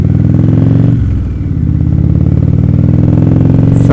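An Indian Roadmaster motorcycle engine rumbles loud and close on a highway, with a pulsing mechanical throb that briefly eases, then builds again under rising revs and steady road noise.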